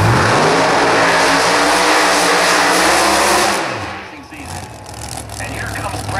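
A Mustang drag race car's engine drones loud and steady at a drag strip, with crowd or announcer noise mixed in. It falls away about two-thirds through and then returns more quietly.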